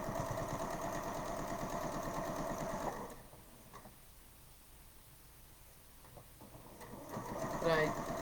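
A sewing machine runs steadily, stitching quilt quadrants at home, with a busy whirring drone for about three seconds, then quiet, then a brief restart near the end.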